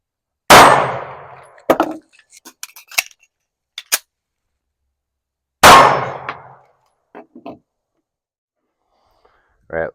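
Two sharp gunshots from a 2011-style pistol about five seconds apart at an outdoor range during a one-shot reload drill, each followed by clattering metallic handling noises of the magazine change, with no talk.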